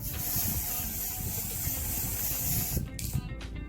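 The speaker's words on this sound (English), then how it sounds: "I'm just going to spray it all on the lace to get it tinted." Lace tint spray is sprayed onto the lace of a blonde 613 bob wig in a loud, continuous close hiss lasting nearly three seconds, then it cuts off into quiet with faint handling noises.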